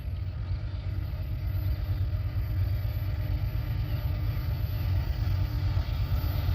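A southbound manifest freight train rolls past nearby, a steady loud low rumble of engines and wagons that holds evenly throughout with no pauses or talk.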